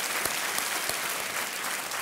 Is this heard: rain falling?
no